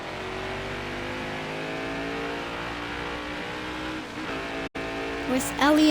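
Race cars roaring around the New Hampshire oval track during a race, a steady loud engine drone with shifting pitch and a brief dropout near the end.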